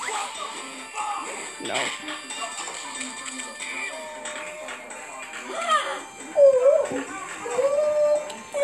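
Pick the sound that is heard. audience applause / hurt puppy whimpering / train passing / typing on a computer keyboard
hurt puppy whimpering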